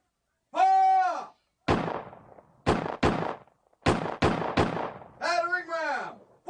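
Platoons laying down covering fire with guns in a battle scene: several sharp, loud shots in quick irregular succession, each with a short ringing decay, between shouted voices.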